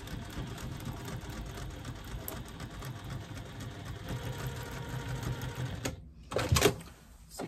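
Sewing machine running steadily while stitching a second seam line on a pop-it pouch, a continuous close mechanical whir that stops abruptly near the end, followed by a brief clack.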